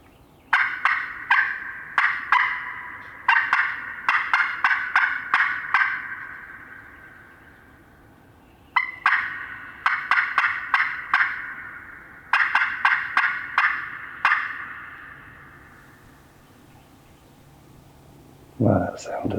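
Wild turkey gobbling in woods during a spring hunt, several loud rattling gobble bursts in quick clusters, echoing through the trees with pauses between, followed by a short thump near the end.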